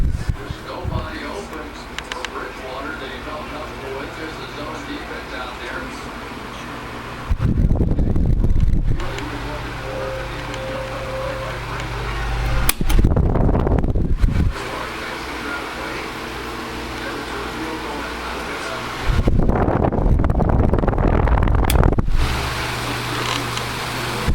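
A vintage Kuo Horng 12-inch table fan runs steadily with its oscillation on, a continuous airy whir with low motor hum, broken by three louder bursts of wind buffeting against the microphone.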